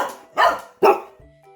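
Two sharp, loud dog barks a short pass apart, close by, with no talking; excited dogs waiting for homemade chicken liver treats.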